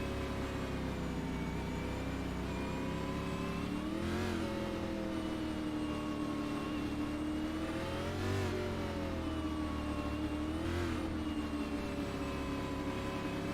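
Engines of sim racing stock cars at Bristol Motor Speedway accelerate on a restart in a video game, a dense, steady multi-car engine drone with rising pitch swells, loud and continuous, no talking.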